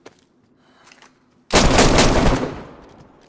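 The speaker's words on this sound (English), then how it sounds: "Automatic weapon." A burst of automatic weapon fire in the DayZ video game erupts loudly and close after a quiet moment, the rapid shots merging into a dense roar that fades out over about a second.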